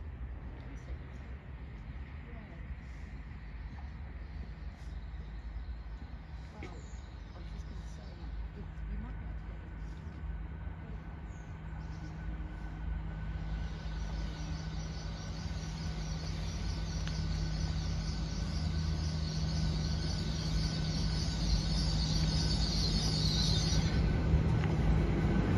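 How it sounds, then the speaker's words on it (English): Class 800 IET unit 800-023 pulls into a station on the Cotswolds Line with a steady low rumble that swells louder, then a high metallic whine rises over the last few seconds as it draws near. "Train's come in. This should be 800-023."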